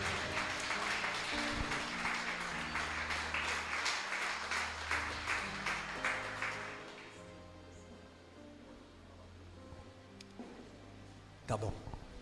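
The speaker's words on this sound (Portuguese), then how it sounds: "Vamos aplaudir o Senhor." A church congregation claps together in a dense, sustained round of applause over music, then the clapping fades out and a few scattered sounds follow.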